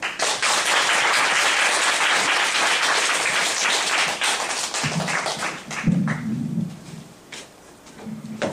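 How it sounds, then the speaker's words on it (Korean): Audience applause fills a room at a policy forum, a dense burst of clapping for about five seconds before it thins out and voices begin talking over the scattered last claps. "선배들 위해서 박수 한번."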